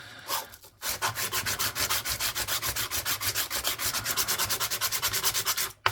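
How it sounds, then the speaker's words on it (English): Sandpaper rubs back and forth on a ring made from an old British two shillings coin, a close, fast, regular rasping rhythm of about five strokes per second that runs steadily, then stops. "Now I'll just do clean this up a little bit with my brand new bit of sandpaper"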